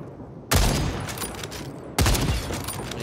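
Two loud bursts of gunfire from Second Extinction, each crack followed by a rattling volley that trails off under a dense background din.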